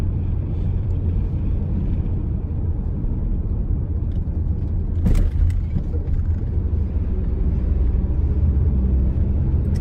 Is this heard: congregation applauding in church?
no